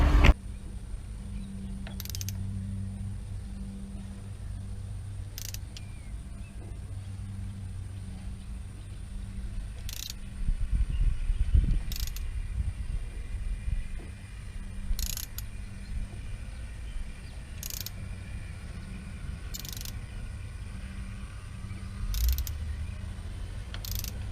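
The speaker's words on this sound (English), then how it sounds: "As you spin the motor over, you'll feel it pop in." A ratchet clicks in slow, evenly spaced bursts while turning over a Cummins 12-valve engine by hand, with a low mechanical rumble and scraping between the clicks. The sound is quiet and close.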